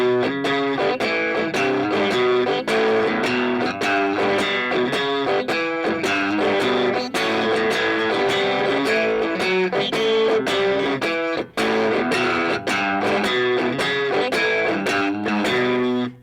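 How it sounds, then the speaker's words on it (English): Distorted electric guitar playing a blues rock line, with percussive muted-string chops driving a steady shuffle; loud, dense and continuous, with no talking. "Now play that blues rock line and add the muted strings."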